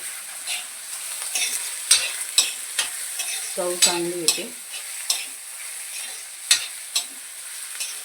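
Ginger, chilli and garlic paste frying in a tempering with onions, a close sizzle punctuated by repeated clinks and scrapes of a stirring spoon, with a brief spoken remark partway through.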